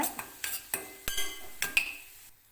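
A spoon scrapes and clinks against a pan while chopped onion and green chili are stirred and sautéed, giving several sharp metallic knocks in an uneven rhythm close by, with faint sizzling and no talk.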